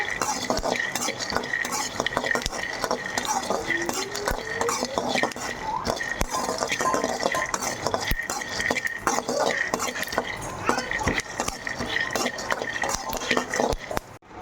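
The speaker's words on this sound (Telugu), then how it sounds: "పెనుగు తినాలు ఇంకా బాగా కలర్ వచ్చేంత వరకు వేసుకుంటున్నా" Peanuts roasting in a pan for gongura chutney, with dense rattling and scraping as they are stirred continuously, light clinks of a utensil, and a faint sizzle underneath.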